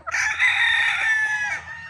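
A single loud, close rooster crow at a gamefarm, one drawn-out cock-a-doodle-doo lasting nearly two seconds, with faint clucking from other fowl beneath it.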